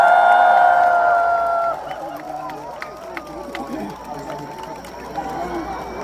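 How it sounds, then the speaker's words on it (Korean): A crowd at the Goseong Hope Dream Concert, an outdoor show with a singer, cheers and applauds. The noise is loud at first, then settles into a steady murmur of clapping and whoops, with voices over it. "박수 한번 주십시오"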